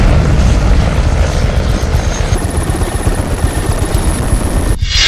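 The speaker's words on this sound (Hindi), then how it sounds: "फाइटर जेट भी हैं, हेलीकॉप्टर भी हैं" A military helicopter during an exercise roars close and loud with a continuous rotor chop and turbine whine, holding steady for several seconds before cutting off abruptly near the end.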